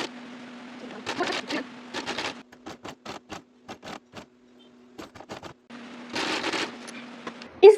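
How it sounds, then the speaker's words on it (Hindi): Sewing machine stitching a small lace trim onto a sleeve, its needle running in short rhythmic bursts separated by brief pauses, close and clear over a steady low motor hum. "इसका रोंग साइड ऊपर की तरफ रखते हुए यहाँ से हमें सिलाई करना स्टार्ट करना है"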